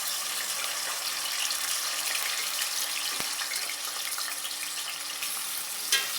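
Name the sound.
bitter gourd frying in hot oil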